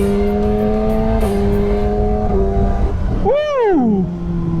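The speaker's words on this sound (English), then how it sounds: "I can show you what the quick shifter sounds like, and it sounds like amazing." Kawasaki Z900 motorcycle accelerating hard with quick-shifter upshifts, heard from the rider's position: a loud steady engine tone drops in pitch at each of a few clean shifts, then a sharp rev rise and fall near the end.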